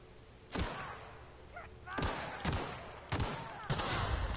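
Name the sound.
gunshot headshot in video game The Outer Worlds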